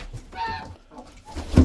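Chickens or other fowl around several nests under a shelter, giving short, close clucks and calls with a brief harmonic squawk and a louder burst at the end.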